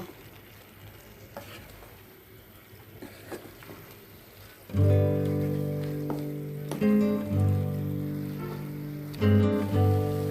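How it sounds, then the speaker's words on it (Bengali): Chicken being stirred and fried in a pan without oil: quiet scraping at first, then a loud, steady sizzle with repeated spoon scrapes and clinks, heard alone. "এভাবে নেড়েচেড়ে আমি মাংসটাকে কষিয়ে নেব।"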